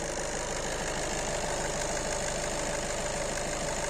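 A Skoda Octavia A7 engine idles steadily up close, a constant low rumble with a faint rhythmic ticking throughout and no voices.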